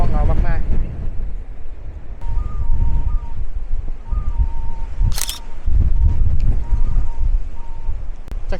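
Strong coastal wind at the Cape of Good Hope roars across the microphone in loud, gusting bursts, with a brief sharp crackle midway and faint background tones, no speech heard.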